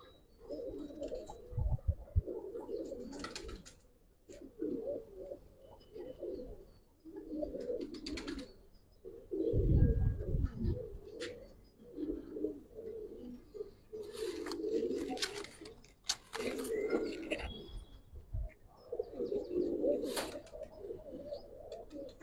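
Giribaz pigeons of the Palla line, silver and coloured old breed, coo repeatedly in low throaty bursts throughout, close and fairly loud, with a few sharper chirps and rustles among them.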